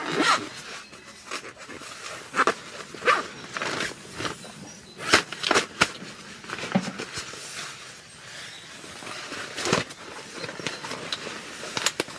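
Zipper on a zip pouch of camping kit opened and closed repeatedly at close range, a series of quick scratchy rasps with brief pauses between pulls, with faint rustling of gear around it and no talking.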